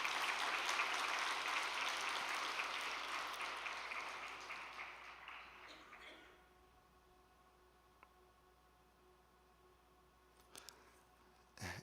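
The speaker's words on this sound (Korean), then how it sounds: "큰 박수 부탁드리겠습니다." Large audience applause at a three-day religious training gathering, loud sustained clapping that fades over several seconds into near silence, followed by a few isolated bumps.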